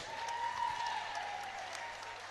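A crowd applauds the runner-up at a Muay Thai fight night, with a steady wash of clapping and cheering under a tonal hum from the venue.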